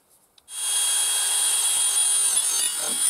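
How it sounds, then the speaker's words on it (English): A power drill starts up after a brief quiet moment and runs steadily at high speed drilling a hole on a John Deere 450C, a loud continuous whine with grinding, close by. "Now I got to drill a second one."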